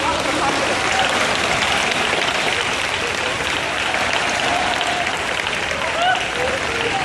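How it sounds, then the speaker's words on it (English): An audience at a horse-and-rider tour event claps loudly and continuously in a dense, even roar of applause, with voices mixed into the crowd noise. "But I want you to clap."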